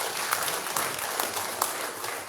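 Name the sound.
applause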